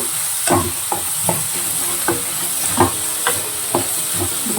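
Onions fry in a pan for a bitter gourd dish, a constant loud sizzle punctuated by regular scraping strokes of a spatula, close up and without talk.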